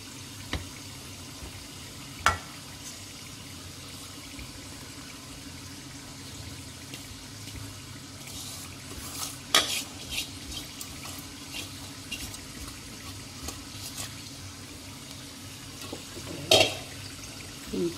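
Cooked vegetable pulao rice is tossed gently with spoons in a pan, giving soft scraping and stirring noises with a few sharp clinks over a quiet sizzle.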